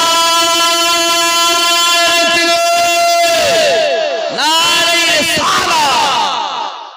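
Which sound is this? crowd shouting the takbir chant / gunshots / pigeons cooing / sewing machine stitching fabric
crowd shouting the takbir chant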